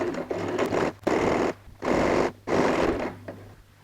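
A sewing machine stitches the quilted lining of a cross-body messenger bag in several short close bursts, each run of rapid whirring stitches separated by brief pauses.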